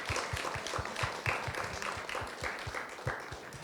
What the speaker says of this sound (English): A big round of applause for all of you, for all of us.